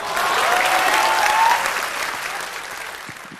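A crowd bursts into loud sustained applause at a live stage event, dense and even at first, then easing slightly toward the end.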